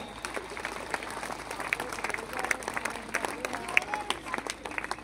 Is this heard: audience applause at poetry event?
yes